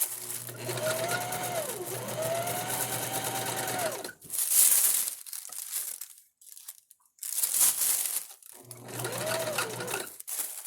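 A sewing machine, running somewhat squeaky, whirs steadily for a few seconds, stops amid crinkling fabric and paper sounds, then starts running again near the end.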